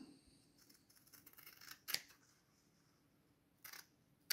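Scissors trim frayed fabric edges off a template for a pole wrap, a few quiet rustling snips followed by sharp close cuts spaced a couple of seconds apart in a quiet room.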